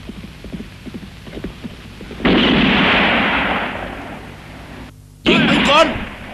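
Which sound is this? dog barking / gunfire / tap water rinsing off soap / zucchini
gunfire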